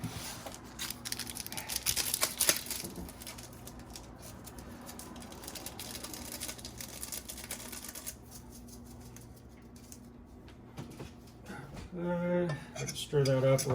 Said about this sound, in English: Stir that up a little bit there.